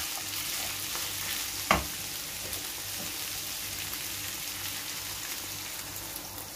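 Water is poured into a pan of chickpea stew before it goes into the oven, giving a steady, even rush of splashing noise with one sharp clack near the start.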